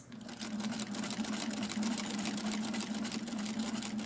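A Singer Featherweight sewing machine fitted with a walking foot quilts fabric at a long stitch length, giving a steady, continuous mechanical whir with a rapid stitching rattle, close and even throughout.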